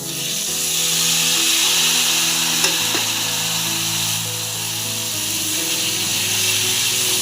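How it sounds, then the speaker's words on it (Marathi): Raw papaya with dry spices fries in a pan, giving a loud, steady sizzling hiss with a faint scrape partway through. "पाच मिनिटं चांगली परतून घेऊ।"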